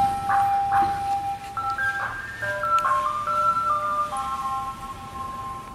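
An ice cream truck plays its tinkling chime melody fairly loud and close, the bright tune stepping through a few notes over a steady outdoor rumble.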